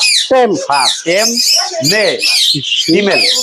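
A tame, ringed female lory at a bird seller's in Savar, Bangladesh, gives repeated loud, harsh squawks and whistling calls close up, in quick bursts with short gaps.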